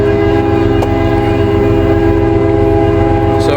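A Norfolk Southern freight train, NS 174, rolls steadily past trackside, its loud sustained locomotive horn ringing over a continuous rumble and rail noise, with a brief clank partway through.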